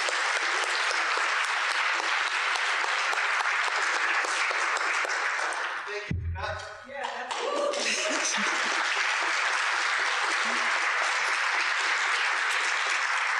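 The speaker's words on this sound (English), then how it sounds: "So let's think about them as we give our final applause." Final audience applause at the close of a scientific project and community workshop: sustained, dense clapping from a large crowd, briefly interrupted by a low thump and handling noise in the middle before resuming steadily to the end.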